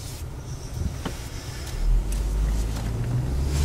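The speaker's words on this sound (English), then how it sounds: "So I'm going to put on my seatbelt, and I'm going to start driving." A car pulls away and begins driving, its low engine rumble steady and close, swelling slightly as it gets moving, with faint interior rattles and no talking.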